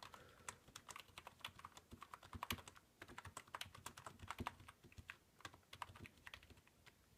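Rapid clicky keystrokes on an old Dell computer keyboard, irregular typing rhythm, close and fairly quiet with no voices.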